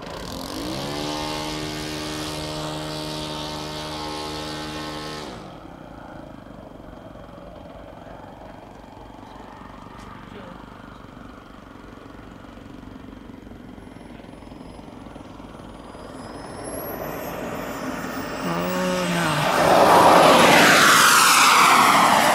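A Kingtech 140 turbine jet engine powers a T1 Models radio-controlled plane at an RC club field, a steady high whine and rushing roar that fades as it passes away, then builds loudly again as it sweeps close near the end.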